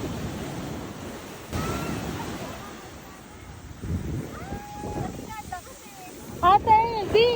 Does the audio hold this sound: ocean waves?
yes